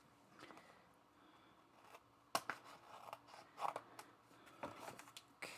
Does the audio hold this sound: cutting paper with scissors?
yes